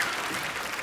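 An audience claps at a comedy show in a brief, dense wash of applause, steady and fairly loud with no pause.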